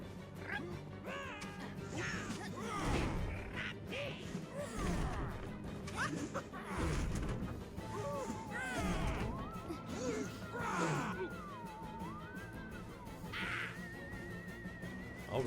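Bird enemies squawk and caw in the platformer Super Lucky's Tale, with crow-like calls breaking through busy game music and effects. Crashes and thwacks repeat throughout.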